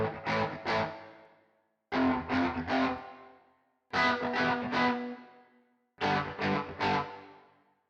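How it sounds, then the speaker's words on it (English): Electric guitar played through an amp and picked up by a distant mic in a very wet, reverberant room: four strummed phrases, each ringing out in a long washy decay before the next. "Here's an overly ambient guitar part, recorded in a very wet room with a mic at some distance from the amp."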